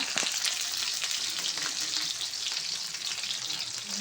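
Green chillies, onion and curry leaves frying in hot oil, producing a dense, steady crackling sizzle throughout with faint stirring, no voices.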